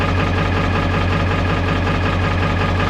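A 1995 Ford F-350 XL with a Powerstroke diesel engine idles roughly after a cold start while its glow plugs are still on, giving a loud, steady low rumble with a shaking throb and no talking.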